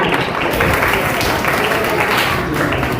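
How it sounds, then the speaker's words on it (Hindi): A classroom audience gives a short burst of dense, even applause, loud and close, with many hands clapping together for a few seconds. "तालियां।"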